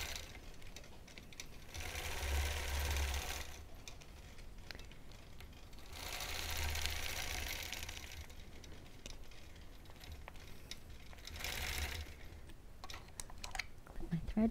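A sewing machine quilting small green inner squares of a mini quilt runs in three bursts of fast, even stitching, separated by quieter pauses, with faint talk in the background.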